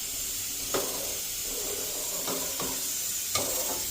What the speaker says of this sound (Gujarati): મિક્સ કરી દેશું આ રીતે